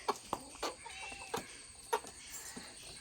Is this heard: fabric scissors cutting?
no